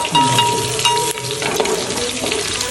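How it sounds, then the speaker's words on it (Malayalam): Ingredients for a Kottayam-style fish curry sizzle steadily in hot oil in a pan, a loud, close, continuous frying hiss broken by scraping stirs of a spatula. "ഇത് നല്ലപോലെ വഴറ്റിയെടുക്കുക കേട്ടോ"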